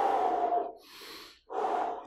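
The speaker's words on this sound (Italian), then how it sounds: "continua a respirare" Heavy breathing during a beginner fat-burning HIIT workout, close and loud, with a long exhale, a short inhale, then another strong exhale.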